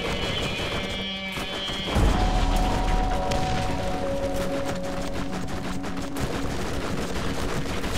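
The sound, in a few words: incendiary gun firing in Borderlands video game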